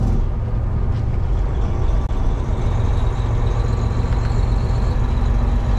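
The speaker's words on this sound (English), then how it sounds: "let's hit the engine brake" A truck with a 13-speed manual transmission, on a small road, runs its engine brake as a steady, loud, rumbling drone that holds throughout, with road and cab noise underneath and no voices.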